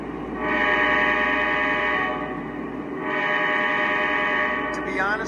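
Two long, loud chord blasts from a CSX ES44AC locomotive horn on a model train, separated by a brief pause over a continuous low engine hum.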